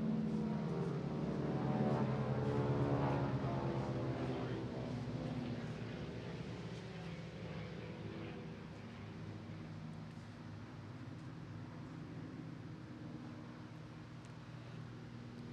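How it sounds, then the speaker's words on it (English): Military aircraft flying over a Memorial Day ceremony, a distant broad roar that swells early and then slowly fades, steady and rumbling with no talk over it. "Oh, there's a flyover, so I'm going to take a break before I conclude."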